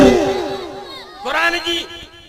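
A crowd at a religious gathering shouts a loud, unified response to a Nara-e-Takbir call, with two overlapping bursts of massed voices close together.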